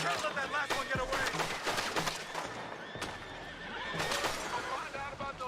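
Horses whinny and neigh amid a busy action scene in the Western video game Red Dead Redemption 2, with overlapping character voices, clattering, and background game sounds filling the mix.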